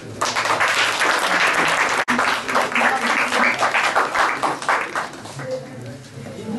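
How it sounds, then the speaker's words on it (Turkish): A school audience in Bingöl claps at a report-card celebration, and the applause is loud and continuous with voices heard over and through it. "Elinizi alkışlıyoruz."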